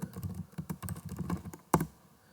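Someone types on a computer keyboard, entering random data into a form in a React app. Quick, uneven clicks run for about two seconds and end with one louder, sharper keystroke, with no talking.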